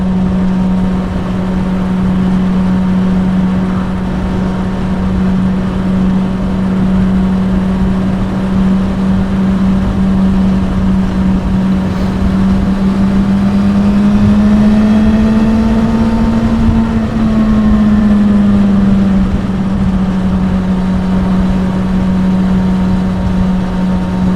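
A Suzuki GSR600 motorbike cruises along a road with a steady, loud engine drone and wind noise. Its pitch holds fairly constant, then briefly rises and falls near the end.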